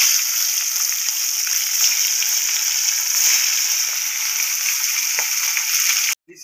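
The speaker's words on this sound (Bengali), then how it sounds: "এবার ওই তেলের মধ্যে আরও যে ইলিশ মাছগুলো ছিল সেগুলোকে আমি এক এক করে ভেজে নেব।" Hilsa fish frying in hot oil give a steady, close, loud sizzle with a dense hiss that holds evenly throughout and cuts off abruptly at the very end.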